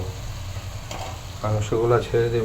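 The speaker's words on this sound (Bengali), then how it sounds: "এখন আমি মাংসগুলো ছেড়ে দেব।" Pigeon meat hits a sizzling mustard-oil spice paste, a close frying hiss that swells into louder bursts as the pieces go in and are stirred, with faint talk underneath.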